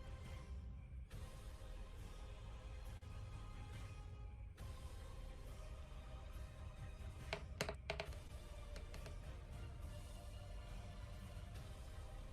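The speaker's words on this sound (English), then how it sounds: "Nasty typing." Continuous keyboard typing on a computer during a tabletop game session: a dense, steady clatter of key presses close by, with a few sharper clacks near the end and no voices.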